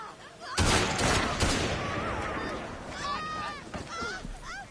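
A couple of sharp, loud gunfire volleys ring out in Assassin's Creed Syndicate, followed by a noisy, busy game backdrop with bird-like honking cries.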